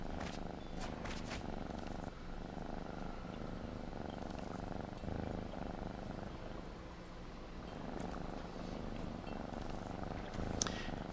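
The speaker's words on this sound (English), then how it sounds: "my winged cat meows and purrs" A winged cat creature purring in the video game Magic the Gathering Arena, a steady continuous low purr running throughout, with a few faint clicks over it.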